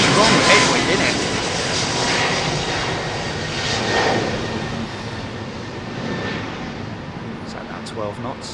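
An Airbus A321neo jet airliner at London Heathrow gives off a steady broadband engine roar that rises and falls gently over several seconds, fairly close and without a sharp onset.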